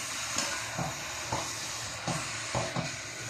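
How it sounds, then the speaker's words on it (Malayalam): Dry pork fry (pork varattiyathu), its liquid cooked off, stirred in a pan close up. A steady sizzle is punctuated by rhythmic scraping stirs. No voices. "നല്ലപോലെ ഇളക്കുക."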